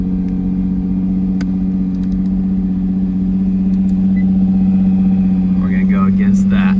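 Engine of a Nissan GT-R sports car idling steadily and loud up close, a constant low hum that rises slightly toward the end, with faint voices and small clicks near the finish.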